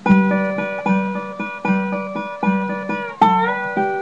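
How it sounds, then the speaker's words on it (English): Plucked guitar with a low bass note thumbed on the 5th string on each beat, ringing chords between, in a steady four-count pattern; one slightly stronger strum near the end. "I pluck the bass here on the 5th string with my thumb"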